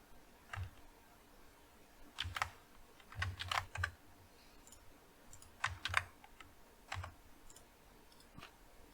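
Typing on a computer keyboard comes through as quiet, close bursts of key clicks in irregular clusters, separated by short pauses, with no talk.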